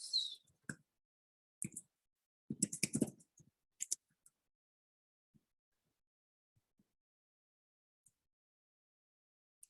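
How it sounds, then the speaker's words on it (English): Bursts of typing on a computer keyboard during a coding session, a few quick clusters of clicks near the start followed by long quiet stretches with only sparse single taps. "I'm just typing a lot."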